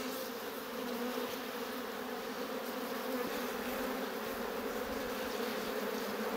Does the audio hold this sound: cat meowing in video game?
no